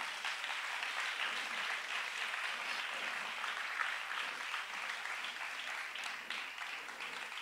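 A church congregation claps steadily and fills the room with dense, continuous applause at an even, moderate loudness throughout, with no single voice standing out.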